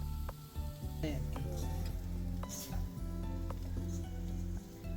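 Semolina sizzling and frying in oil in a pan, a steady crackling hiss with occasional stirring scrapes and faint background voices throughout.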